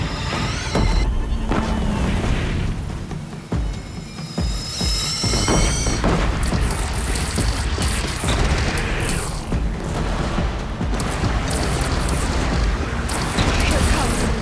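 Heavy cannon blasts and booming explosions roll almost without pause through a battle in Horizon Zero Dawn, loud and dense, with voices calling out partly under the din.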